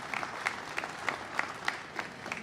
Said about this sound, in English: A round of applause for Mark and the entire foundation for what they do